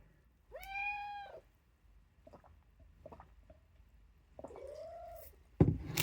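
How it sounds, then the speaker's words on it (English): A pet cat meows twice indoors, a drawn-out, clearly pitched call followed a few seconds later by a second, rising-and-falling meow, with faint shuffling between and a sharp knock at the end. "And my cat wants to be in the video."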